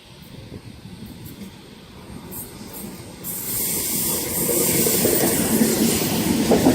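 A four-car Oscar commuter train runs along the rails near Stanwell Park, a steady rumble that swells louder and closer over several seconds with no voices.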